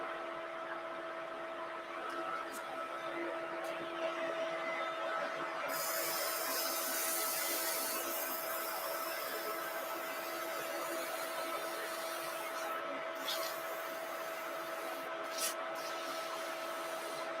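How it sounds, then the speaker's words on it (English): A wood lathe runs with a sanding arbor fitted with roughly 50mm discs, giving a faint, steady whine with intermittent bursts of hissy sanding friction against the spinning wood. "So I'm using Simon Oak Sanding Arbor."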